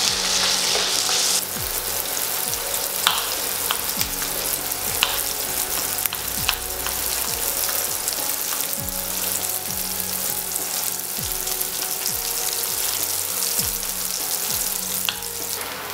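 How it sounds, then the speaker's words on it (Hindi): Chopped onions sizzle steadily in hot oil in a pan, with occasional scraping of stirring throughout, for a chicken biryani; no talking over the continuous frying. "बीच बीच में कांदों को भी स्टर करते रहेंगे।"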